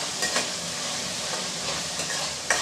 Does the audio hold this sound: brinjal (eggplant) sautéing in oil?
yes